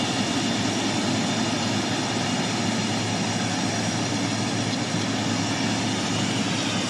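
An Air New Zealand Boeing 777-300 landing at Auckland, heard as a loud, steady, broadband engine roar close by, holding constant without talk.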